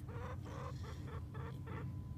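Chicken clucking on a farm, a series of short rhythmic clucks close by over a steady low background hum, with no talking.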